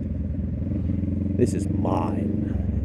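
A Honda CB650 motorcycle engine runs steadily on a ride, a low, continuous rumble with a brief clatter midway, heard under someone talking throughout.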